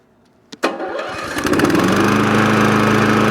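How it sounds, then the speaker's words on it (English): A cheap RC track lawn mower's small engine cranks with a couple of sharp clicks, then catches and settles into a loud, steady buzzing drone close by, with no talking. "start the mower up."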